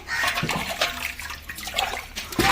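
Water splashes and sloshes in short irregular bursts while ingredients for khichuri are rinsed by hand in a village kitchen, close and fairly steady with no talk.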